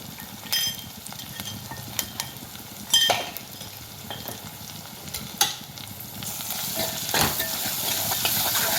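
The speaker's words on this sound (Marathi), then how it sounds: "आता हा मसाला आपल्याला व्यवस्थित परतून घ्यायचा आहे" Spices and garam masala sizzle steadily in a hot pan while a utensil stirs and scrapes at intervals, close and fairly loud, with no talking.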